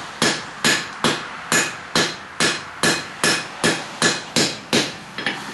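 A hammer pounds metal while nails are being forged, about a dozen sharp, loud, evenly spaced ringing blows, close by, with no talk.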